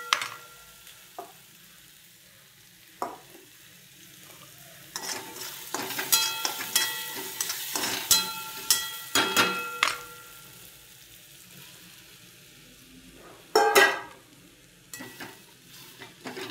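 Phodnichi poli chivda, a dish of crumbled leftover flatbread with tempering and chopped coriander, is stirred and sautéed in a pan, with repeated scraping and clattering strokes over a soft, steady sizzle, nearby and without talk.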